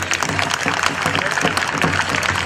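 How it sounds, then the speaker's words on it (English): A crowd applauds students from the Omaha Nation Public School at an outdoor sculpture dedication, a dense, steady clapping that fills the whole stretch with faint voices beneath. "Let's give them a round of applause"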